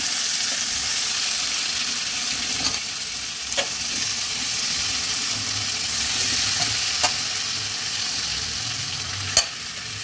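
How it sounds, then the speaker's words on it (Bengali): Chicken pieces frying in hot oil with ginger and garlic for Kolkata-style chicken biryani, a steady close sizzle with occasional clicks and stirring sounds throughout. "এবার মাংসের টুকরোগুলো আমি একে একে তেলেতে দিয়ে দেবো।"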